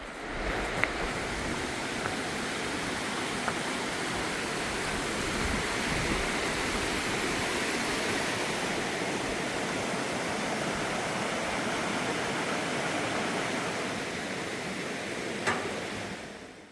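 The rushing stream of Baekdam valley in Seoraksan's old-growth forest: a constant broad roar of flowing water, close and steady throughout, with no voices.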